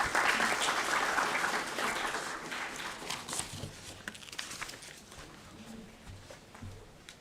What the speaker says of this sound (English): can we give Ambassador Amy another round of applause?